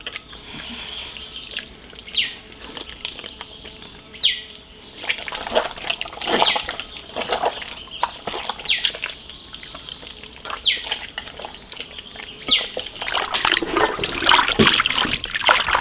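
Pig stomach being rinsed by hand under running tap water, with steady trickling and splashing and several louder bursts of sloshing as it is turned and scrubbed, close and continuous.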